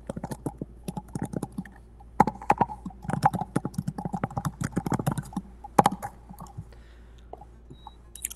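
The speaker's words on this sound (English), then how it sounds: "I'm not used to typing on like this keyboard." Typing on an unfamiliar computer keyboard produces irregular bursts of sharp, close key clicks with brief pauses, thinning out near the end.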